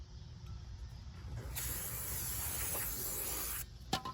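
A steady hiss of aerosol cleaner sprayed during rear brake work on a 2013-2016 Ford Fusion, about two seconds, close up, followed by a short clatter at the end.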